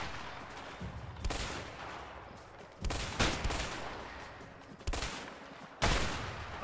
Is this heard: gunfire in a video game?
yes